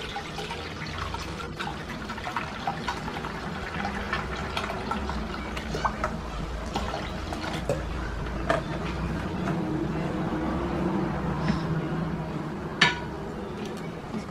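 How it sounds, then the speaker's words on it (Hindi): One litre of milk pours into a cooking pan in a home kitchen, a soft, continuous liquid stream lasting over ten seconds, with occasional light clinks and drips. "1 लीटर हम दूध डाल देंगे।"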